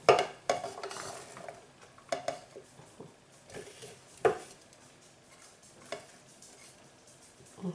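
Garlic frying in oil in a pan, a soft sizzle broken by scattered sharp scrapes and clinks as it is stirred, fairly quiet and close.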